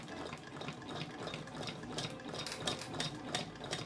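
An antique 1919 Frister & Rossmann sewing machine runs steadily, a continuous soft whirring with rapid rhythmic ticking of the stitching mechanism, close and fairly quiet.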